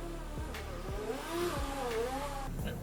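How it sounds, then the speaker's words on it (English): A combustion-engine car pulls out of a garage, its engine humming and rising in pitch as it accelerates, with a few low thumps and a smooth revving tone, heard at moderate distance without speech. "Someone's just driving their ice car out of the garage"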